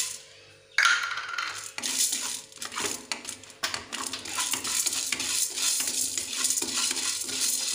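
Urad dal and chana dal are dry-roasted in a pan for Salem-style spice powder, with rattling, scraping stirs and light clinks of the lentils against metal, close and continuous.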